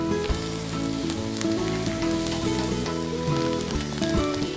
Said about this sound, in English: we're gonna put it on right on the hot flames and just let it go.